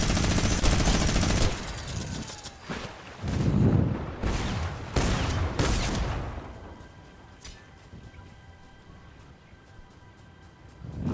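Gunfire in Fortnite Chapter 3 Season 1 rattles in rapid, loud bursts of shots early on, then thins to scattered fainter reports as the fighting quiets.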